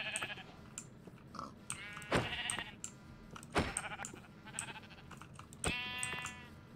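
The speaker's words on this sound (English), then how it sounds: "we're going to go some sheep hunting." Sheep in the Minecraft video game bleat several times in short, clear cries over faint computer keyboard tapping, with quiet gaps between each bleat.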